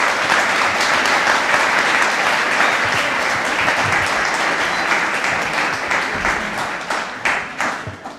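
A lecture audience applauds steadily to welcome a speaker at a masterclass-style talk, the dense clapping sustained and fairly loud before thinning and fading over the last couple of seconds.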